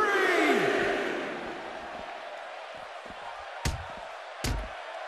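A wrestling crowd at a tag-team event roars loudly at first, then settles into a sustained cheering murmur, with a couple of sharp slams or thuds near the end.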